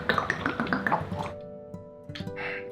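Newman premium bottled water is poured, giving a quick run of glugging, dripping splashes, followed by a short ringing tone and a few more light liquid sounds.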